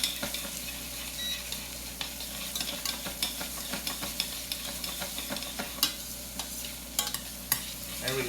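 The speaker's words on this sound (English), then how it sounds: "make sure that you can actually hear your pan sizzle" Apricot chutney with ginger sizzling in a pan, a steady bright hiss broken by frequent sharp scrapes and clicks of stirring, close up and without talk.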